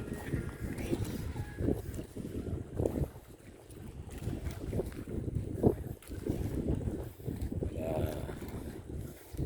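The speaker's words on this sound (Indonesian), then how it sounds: "Suasana sore ini berangin" Steady wind buffets the microphone with low rumbling gusts at a village pier in Wonggarasi Barat, while voices talk faintly underneath.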